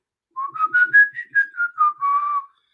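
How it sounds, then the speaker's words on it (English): A person whistles a short melodic phrase alone, close and clear, the notes rising then falling and ending on a longer held tone; the whistler's missing upper teeth have been replaced. "I can whistle now."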